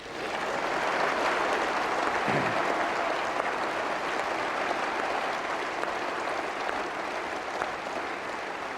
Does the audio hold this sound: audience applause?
yes